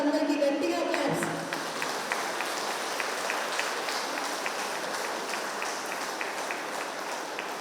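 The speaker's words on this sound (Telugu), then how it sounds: "మహానుభావులందరికీ గట్టిగా క్లాప్స్" A crowd at a vegetarian rally in Madanapalle breaks into dense, sustained applause right after a brief voice, the clapping steady and fairly distant for several seconds.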